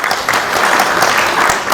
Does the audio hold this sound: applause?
yes